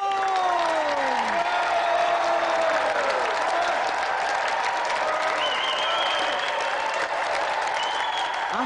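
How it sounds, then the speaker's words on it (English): Studio audience at a video-game TV show applauding and cheering steadily, a dense roar of clapping with occasional whoops and rising whistle-like tones over it. "Applause for Callum Green and tonight's special guest"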